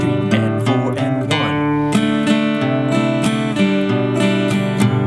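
Rhythm guitar strumming the verse chords of a song at a slow tempo, even strums ringing out loud and close with no voice.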